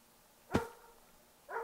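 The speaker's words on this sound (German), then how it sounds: "Ich unterbreche mal kurz, bis der Hund ruhig ist." A dog barks twice, single sharp woofs about a second apart, at moderate distance against quiet room background with no talk.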